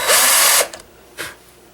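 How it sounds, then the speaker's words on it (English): A power drill with a countersink bit briefly bores into screw holes in a gunsmith's workshop, a short loud whir followed by a second quick burst, nothing else. "And we'll countersink these two holes a little bit."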